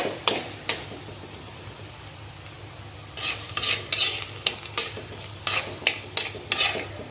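Masala sautéing for a pepper mackerel curry: a low sizzle under sharp, irregular spatula clicks and scrapes as the pan is stirred, with busier stirring in the latter half.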